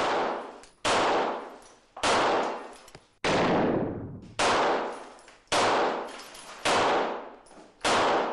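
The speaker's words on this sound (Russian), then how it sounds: "Пуля пробивает обычное стекло и достигает цели." Seven loud, sharp gunshots fired through ordinary glass ring out at roughly one-second intervals, each with a long ringing decay and a shattering edge, with no voices.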